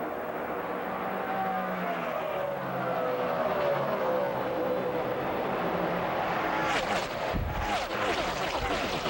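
NASCAR stock cars in the 2009 Pepsi 500 race around the track, a loud, continuous engine roar with a pack sweeping past near the end, under race commentary.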